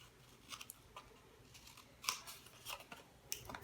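Scissors snip through paper while a stencil is cut out for a popsicle craft, giving a handful of quiet, crisp cuts spaced irregularly over a soft background, with no talking.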